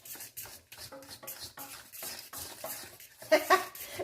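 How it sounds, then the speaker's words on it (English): Sauce being stirred in a pot on a kitchen stove while making waffle pizzas, with close scraping and clinking of a utensil against the pot in uneven strokes. "Why don't you stir the sauce back there?"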